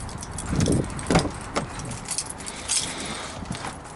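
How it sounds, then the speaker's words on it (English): Keys clink and jangle together on a Jeep Compass key fob in a few close, bright bursts of metallic rattling. "This is the key fob for the Jeep"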